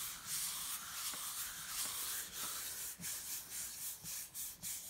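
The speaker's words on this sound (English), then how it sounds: "You just rub the back." Quiet, dry rubbing over the back of a transfer sheet, soft repeated strokes that turn into a quicker scrubbing rhythm toward the end, close and faint with no voices.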